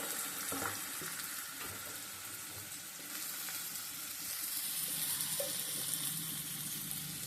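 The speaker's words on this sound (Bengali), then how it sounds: "এখন আমি আলুটা কাঁচা কলা ভেজে নেব" Potato and raw banana pieces fry in hot oil in a pan, a steady broadband sizzle that holds throughout with brief stirring clinks and a swell in intensity partway through, with no talking.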